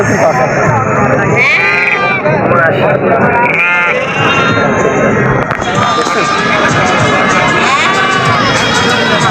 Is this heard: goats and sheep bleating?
yes